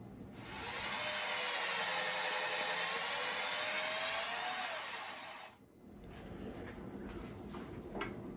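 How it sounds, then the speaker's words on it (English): A power drill bores two screw holes for the bridge of a headless electric guitar during final assembly, a loud steady whine for about five seconds that stops abruptly, followed by quieter workshop handling noises. "Gotta drill two holes here and put in the screws."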